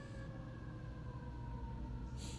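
A siren from emergency vehicles outdoors sounds a long, slowly gliding tone at steady moderate loudness, layered over a low rumbling background.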